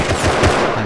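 Gunfire in the survival game Rust sounds as a loud, dense burst of shots that blur into a continuous roar for under a second.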